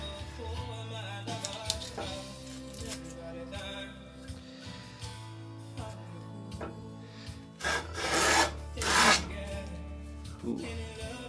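A hand plane shaving wood from a Greenland paddle, with irregular rasping strokes and scraping of a coarse cut, close and alone, growing louder toward the end.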